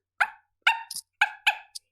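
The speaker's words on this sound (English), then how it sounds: "In like the very far distance, you can just hear the quietest of barking." A dog barking in the far distance, faint and quiet: four short barks in two pairs, each followed by a softer yip, with silence between them.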